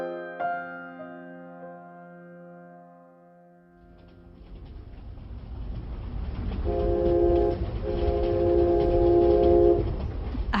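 A sustained horn chord rings out, then a train rumbles along the rails with a steady rolling roar that builds in loudness, and a second horn blast sounds over the running noise.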